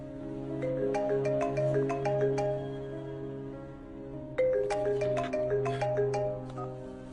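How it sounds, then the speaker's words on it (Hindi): A phone ringtone plays a repeating melodic chime in two bursts with a brief pause between, clear and fairly close, with no talking; a scene in a Hindi-dubbed Hollywood horror romance film. "आप फोन क्यों नहीं उठा रहे? हो सकता है जेन का हो।"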